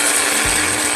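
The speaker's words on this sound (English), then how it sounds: "I use a spice grinder." An electric spice grinder whirs loudly and steadily as it powders dried djondjon mushrooms, a close high-pitched motor whine with a faint rattle of the pieces inside.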